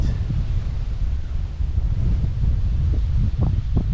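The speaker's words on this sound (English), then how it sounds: "So this is very windy" Strong wind off the Strait of Johor buffets the microphone at a Pasir Ris Park campsite in a constant low roar, with a few brief gusting bursts toward the end.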